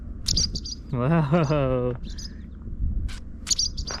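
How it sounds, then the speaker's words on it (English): Small birds chirp close by at a campground in Lyman Run State Park, Pennsylvania, with short bright tweets scattered through the clip while a person exclaims and hums nearby. "Look at how close these birds are getting."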